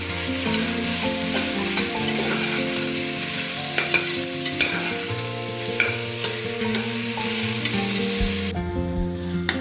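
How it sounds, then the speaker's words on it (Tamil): Tomatoes frying in a pan while being stirred for quail biryani, a steady close sizzle with repeated scraping and clinking of the spoon against the vessel, no talk. "தக்காளி இப்போ நல்லா வதங்கிடுச்சு."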